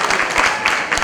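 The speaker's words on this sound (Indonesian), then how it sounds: "Kita berikan tepuk tangan." Audience applauding at a formal installation ceremony for a regional organization's board held in a hotel, a dense burst of many hands clapping close and loud, with pulsing swells.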